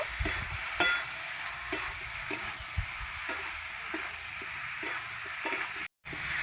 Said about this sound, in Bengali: সবজির সঙ্গে মশলা আমি ভালো করে কষিয়ে নিয়েছি